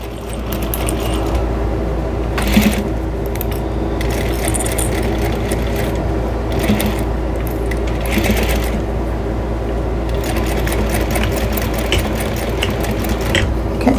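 Sewing machine basting a towel onto fabric along a quarter-inch seam, a loud continuous mechanical whir and clatter that runs throughout, with brief surges where the stitching speeds up.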